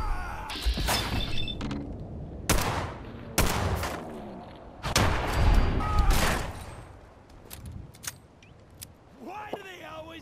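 Gunfire in the Fallout 4 video game: several loud separate shots with sharp cracks and bursts, some ringing and clattering between them, and voices talking in the background.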